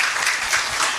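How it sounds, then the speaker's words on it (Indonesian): Applause from a church worship congregation, a brief, dense wash of many hands clapping. "berikan tepuk tangan yang luar biasa"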